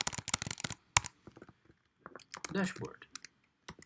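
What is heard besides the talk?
typing a URL route on a computer keyboard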